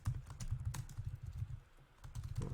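Quick typing of a search on a computer keyboard, a steady run of soft close key clicks throughout with no talk.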